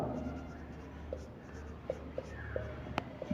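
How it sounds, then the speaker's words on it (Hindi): A physics formula being written out by hand: soft, faint scratchy strokes and small taps over a low background hum. "तो सूत्र लिखेंगे कि कृत कार्य"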